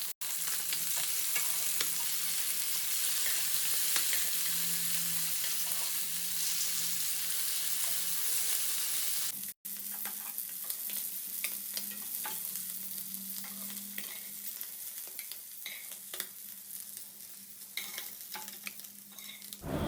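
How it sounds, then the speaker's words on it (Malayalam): Fish fries in hot oil in a home kitchen, with a loud, continuous crackling sizzle close by and occasional stirring scrapes. There is a brief break partway through, then the frying carries on unbroken, with no voices. "അങ്ങനെ ഒരു ട്രിപ്പ് മീൻ വറുത്ത് കഴിഞ്ഞു."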